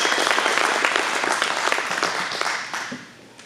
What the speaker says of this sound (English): So again, round of applause for all the cooks